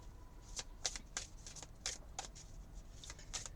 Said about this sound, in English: let's just shuffle the cards